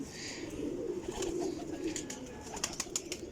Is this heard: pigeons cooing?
yes